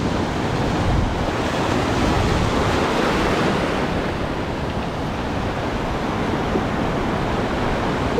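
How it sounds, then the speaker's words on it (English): Ocean surf crashes against coastal rocks at a rock-fishing spot in Australia, a loud, continuous roar of breaking water and spray close by, with steady wind noise and no talk. "big wave, big wave."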